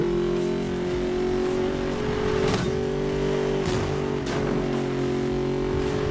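A Ford Mustang in Need for Speed Most Wanted drives with a loud, steady engine drone that climbs in pitch and then drops at several gear shifts, with no talk over it.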